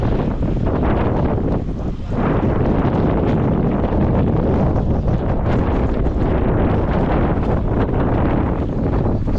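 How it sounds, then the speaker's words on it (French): A strong Mistral wind roars across Toulon harbour, loud and unbroken, buffeting the microphone with a heavy, gusty rumble and no voices. "C'est le bruit du vent,"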